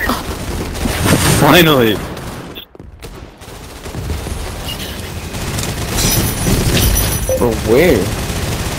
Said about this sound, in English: Stop using the minigun, please.